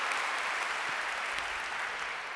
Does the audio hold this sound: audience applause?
yes